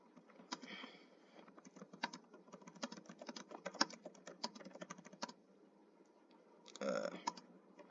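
Rapid typing on a computer keyboard: dense bursts of quick, light key clicks at close range, pausing briefly before another short flurry near the end, with no talking.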